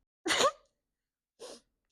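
A single sharp sneeze bursts out nearby, followed a moment later by a softer second exhalation, with silence around both.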